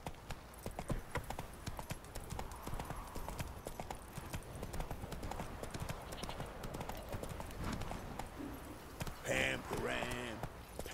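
Roach, a horse in The Witcher 3, runs with quick continuous hoof clops at moderate volume, while a voice talks over the hooves toward the end.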